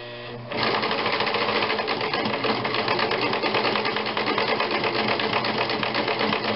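A sewing machine stitches a nun's veil in a steady, loud, continuous run that starts after a brief quieter moment and holds an even pace to the end.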